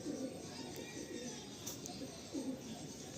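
Malwai pigeons cooing steadily as a pair, soft repeated low coos in a continuous run, fairly faint against a constant background hiss.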